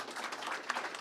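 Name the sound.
audience applause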